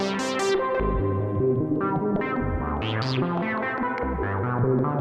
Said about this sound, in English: send the sample and hold output into the filter cutoff, sampling some white noise